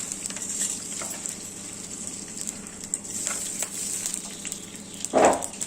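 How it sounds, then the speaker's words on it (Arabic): Washed white rice sautéing in ghee in a pan: a steady, soft sizzle with faint stirring scrapes and one louder clatter near the end, no talking. "هنشوحه بقى كده، نفضل نشوح مع بعض كده عشان يبقى ايه كله متغلف بقى بالماده الدهنيه"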